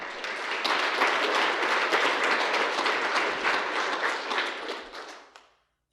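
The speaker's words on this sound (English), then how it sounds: "So a round of applause for them." A conference audience at an international construction management event applauds steadily for several seconds before the clapping fades out to silence.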